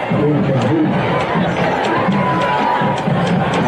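Westlake fans cheering from the far sideline at a high school football game against Del Valle, a steady, loud crowd roar with no distinct peaks, heard under a commentator's talking.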